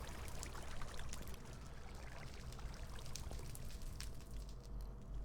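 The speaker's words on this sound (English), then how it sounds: "Bucket of water." Water poured from a bucket in Minecraft gives a faint, steady splashing pour with a few scattered clicks, continuous for several seconds and free of talk.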